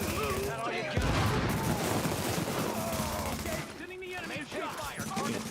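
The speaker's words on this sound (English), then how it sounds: "They're shooting at me." Rapid gunfire in The Division 2, sustained automatic bursts and overlapping shots that stay loud and close, with someone talking over the firefight.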